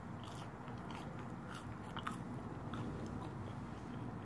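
White Castle cheesy fry being eaten, soft close chewing and crunching in quick irregular bites, quiet and alone.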